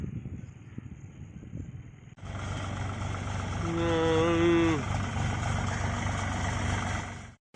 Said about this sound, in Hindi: जब्त ट्रैक्टर नदी से बालू का उठाव कर रहा है।